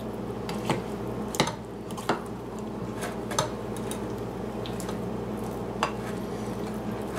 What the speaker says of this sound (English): About the equal amount of the chopped pecans, and you just fold it in there.